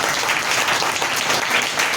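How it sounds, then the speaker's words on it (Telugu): A church congregation clapping loudly and steadily together, a dense sustained applause filling the whole short stretch. "గట్టిగా చప్పట్లు కొడతావా?"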